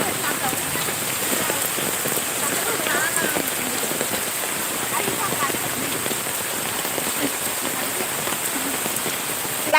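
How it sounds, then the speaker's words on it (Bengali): Heavy rain pours down outside a village house, a dense, steady hiss of drops drumming on surfaces that holds at an even loudness throughout with no breaks. "হ্যাঁ বৃষ্টি অনেক জোরে হচ্ছে"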